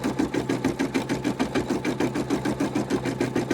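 A Brother NV180 sewing machine stitches a badge in a steady, fast rhythmic whirr, loud and close with an even mechanical pulse throughout.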